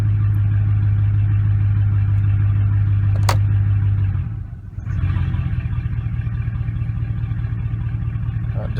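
A 2004-2008 Ford F-150 with a transmission stalling problem idles in drive, giving a steady, close, low engine rumble that sags briefly midway and then recovers.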